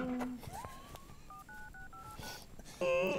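A mobile phone keypad beeps out a quick run of about seven dialing tones, quiet and evenly spaced, followed by a brief voice.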